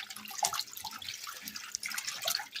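Bok choy is swished and rinsed in cold water in a kitchen sink, producing soft, irregular splashes and trickles that are fairly quiet and close.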